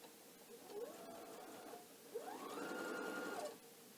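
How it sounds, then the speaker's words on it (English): A sewing machine stitches a quarter-inch seam on a pillowcase in two bursts, each whirring steadily for about a second, the second run longer and louder, close by with no talk. "I'm going to sew this seam at 1/4 of an inch"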